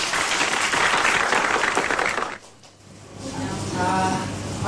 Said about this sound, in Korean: 박수를 보내주세요.